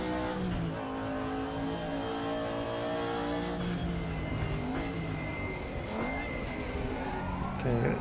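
A DTM race car engine in the RaceRoom racing game at Hockenheim holds a steady, loud drone through the first corner, pitch sliding as it brakes and then revs back up near the end.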